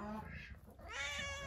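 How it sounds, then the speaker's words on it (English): Barn cats meow in a brief, quiet, drawn-out call on a farm morning, faint and close, with soft background noise. "Hey, little barn kitties."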